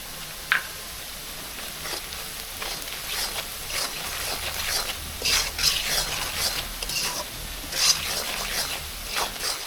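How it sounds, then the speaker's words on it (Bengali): Onion and garlic fry in a pan for a tilapia fish recipe, a soft steady sizzle broken by repeated scraping stirs of a spatula, close and moderately loud. "পেঁয়াজ রসুন ভাজা ভাজা হয়ে গেছে, লাল লাল হয়ে আইছে"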